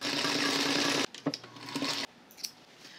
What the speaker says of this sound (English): I'm going to, again, sew this on a 1/4 inch seam allowance